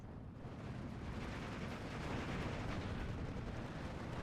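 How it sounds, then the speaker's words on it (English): Artillery fire in the Steel Division 2 strategy game: a continuous, muffled rumble of distant barrages and explosions blending into a steady low roar, fairly quiet. "Artillery coming down."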